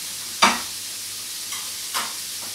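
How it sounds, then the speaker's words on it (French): A floured cod fillet pan-frying, giving a soft, steady sizzle underneath a few sharp clinks and scrapes of a utensil against the pan. "Et je laisse poêler ça gentiment."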